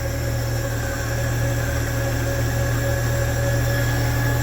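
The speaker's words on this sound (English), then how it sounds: "The engine's quiet." A 1952 Chevrolet four-door sedan engine idling with a new alternator fitted, a steady, even mechanical hum with a constant low drone and no change in speed, heard close and alone.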